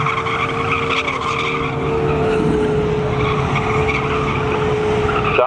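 Drag race cars, a Ford Mustang and a 1996 Z28, launch off the line at a Labor Day spectator drag event, a loud continuous roar of engines and tire noise with a steady whine running throughout.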